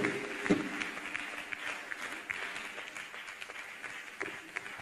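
A congregation clapping during a church worship service, a faint, loose patter of hands with a few sharper claps, continuing for several seconds in a reverberant hall.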